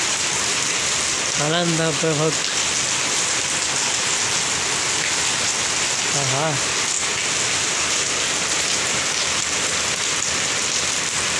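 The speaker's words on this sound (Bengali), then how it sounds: "খুবই ভালো বৃষ্টি" Rain falls steadily in Jhargram, an unbroken close hiss of drops on surfaces, while someone speaks briefly twice over it.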